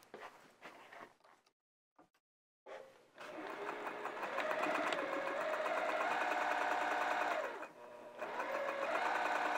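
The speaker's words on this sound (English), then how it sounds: "let's sew this at the machine." A sewing machine stitches a seam on a flannel tunic: a few brief taps and a pause, then a steady, close whirring hum runs on with a short break near the end before resuming.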